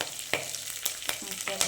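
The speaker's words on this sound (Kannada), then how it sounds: "ಅದಾದಮೇಲೆ ಕರಿಬೇವು ಹಾಕ್ಕೊತಾ ಇದ್ದೀನಿ." Curry leaves crackle and spit as they drop into hot oil, a steady close sizzle broken by several sharp pops and brief utensil scrapes.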